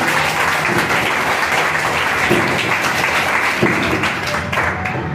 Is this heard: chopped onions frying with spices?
no